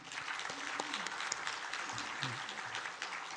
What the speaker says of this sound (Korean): 한번 우리 뜨거운 박수로 환영하도록 하겠습니다